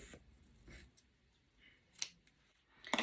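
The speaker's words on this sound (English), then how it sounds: "So what I'm going to do is just cut it" A wig band being snipped off with scissors, a few sparse sharp cuts spaced apart in a quiet room, the last one louder and closer.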